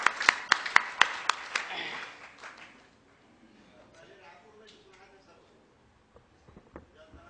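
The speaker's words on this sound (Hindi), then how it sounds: "उसके लिए एक बार जोर से ताली बजाइए।" Audience at a poetry recitation function gives a short burst of loud, sharp claps for the poet, a handful of distinct hand strikes over two seconds that quickly die away into quiet room murmur and sparse clicks.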